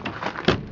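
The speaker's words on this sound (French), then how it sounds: "portes ferment impeccable, sans avoir les taper comme une mule" Door of a 1966 Ford Mustang awaiting restoration closing, a single soft, solid thud near the middle after some rustling, close by and without talk.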